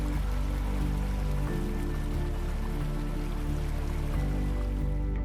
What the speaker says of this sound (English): experience the sounds and mists of dozens of waterfalls